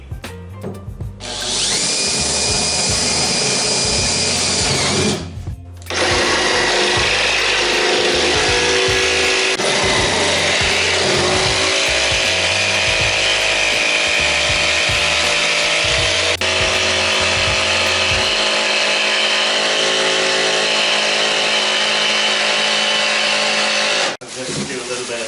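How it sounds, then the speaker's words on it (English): A power drill whines briefly, then a jigsaw rattles steadily and loudly through a wooden boat's main deck, cutting for a long stretch before stopping abruptly. "just going to drill a hole, and then I'm just going to jigsaw these out"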